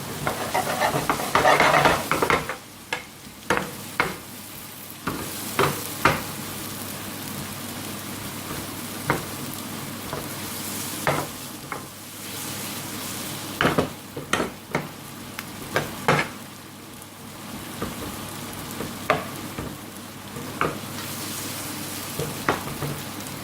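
Bottle gourd and prawns frying in a pan for Bengali lau chingri are stirred with a long chef's spoon, giving repeated scraping and clattering strokes over a steady sizzle, loudest at the start.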